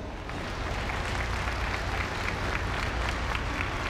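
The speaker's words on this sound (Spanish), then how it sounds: "ella es Mía, un aplauso." Audience applause at a community orchestra choir concert in Mexico, a broad steady roar of clapping that swells in after a quiet start and stays dense and even.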